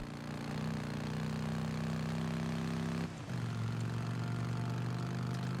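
Motorcycle engine in the video game Days Gone, a steady droning hum that briefly dips and shifts pitch midway as if changing gear, continuous and fairly loud with no talk.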